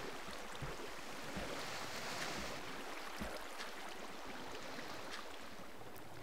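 Rushing river current in Minecraft, a continuous broad wash of flowing water, steady and fairly close without pauses.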